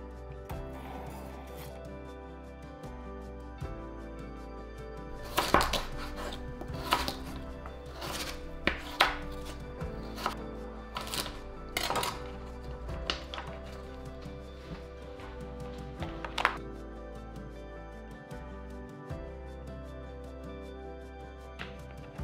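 A knife chops repeatedly on a cutting board in an irregular run of sharp, close knocks over a steady low hum, with no talking.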